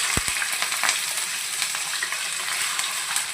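Chicken pieces fry and sizzle in a hot pan for a chicken curry, with a steady close hiss and a few scraping stirs, no voices.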